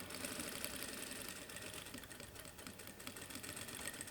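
Sewing machine stitching fabric bias binding around an edge, a steady fast mechanical whirring with a fine rhythmic needle chatter, close and continuous, with no voices.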